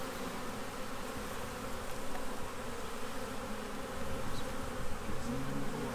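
Honeybees hum in a dense, continuous buzz around a hive newly installed from a package, with the swarm up close and loud and the drone swelling slightly at times, with no talking.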